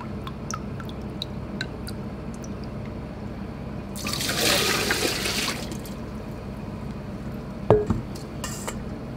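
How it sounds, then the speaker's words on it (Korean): Soy-sauce pickled salmon roe drains in a strainer: scattered faint drips, then a soft rushing pour of liquid lasting a second or so, followed by a sharp splash and a few more drips. "이대로 해가지고 물기를 좀 빼겠습니다"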